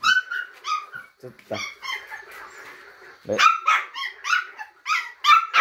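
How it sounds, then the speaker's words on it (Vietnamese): Hunting dog puppies, many of them together, bark in high yips and whimper in quick uneven bursts, close and loud, while someone talks briefly over them. "Đây, chó con của em rất là nhiều nha các bác nha."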